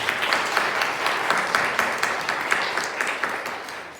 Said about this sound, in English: give it one more round of applause to our speaker, Mr. Chen.